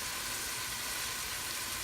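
Red snapper stew cooks down in a pot after hot water is added, giving a steady, even hiss and bubbling simmer with no talking.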